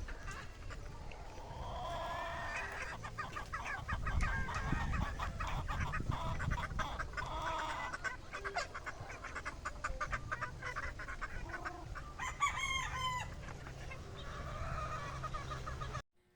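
Gamefowl cockerels and baby pullets out in a range area at a game farm, clucking and calling together in a busy, continuous flock chorus, with sporadic crows and nearby chatter of birds.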